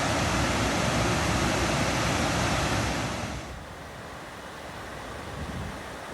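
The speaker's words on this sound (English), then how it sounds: "This is Bernie Creek above the falls." Creek water rushes above a waterfall on the Pacific Crest Trail, a loud, dense, broadband roar that eases slightly partway through, with wind buffeting the microphone.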